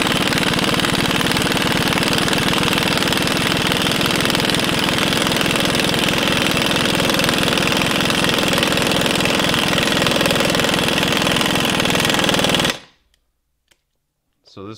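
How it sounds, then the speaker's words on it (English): An impact wrench hammering a bolt tight during a bushing job, a loud continuous rapid rattle held for about twelve seconds before stopping abruptly into near silence. "Go ahead and grab your impact wrench and your socket."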